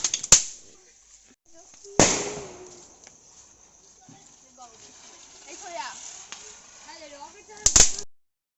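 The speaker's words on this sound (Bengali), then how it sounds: "আমরা সবাই মিলে আনন্দ মজা করে কিন্তু বাজিটা ফাটাই" Firecrackers burst during a Kali Puja night outing with children: a few sharp, loud cracks stand apart, one early, one near the middle and a double pop near the end, with people talking in between.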